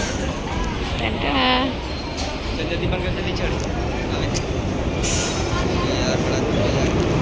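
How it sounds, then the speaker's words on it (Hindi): A train pulls into Sarnath railway station, a loud continuous rumble of rolling wagons with brief wheel squeal, while people talk excitedly over it. "फाइनली गाइस इतना वेट करने के बाद ट्रेन आई है"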